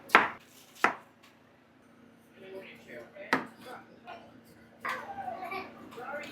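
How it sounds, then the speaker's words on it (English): A knife chops through melon on a cutting board during preparation of a four-ingredient natural energy drink, giving a few sharp, close thuds spread unevenly, followed by quieter handling and board clatter. "So just chop that up."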